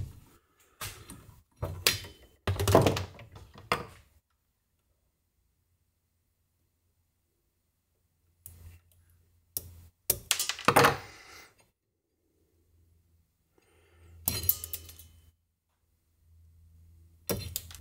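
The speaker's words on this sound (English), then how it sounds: "So I'm going to cut my wire down." Electrical wire being cut to length for a key-fob on/off switch added to an inverter, heard as a few sharp clicks and snips in separate bursts, some close together, with quiet gaps and a faint low hum between them.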